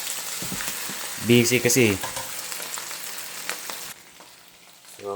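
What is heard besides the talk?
sisig frying in a pan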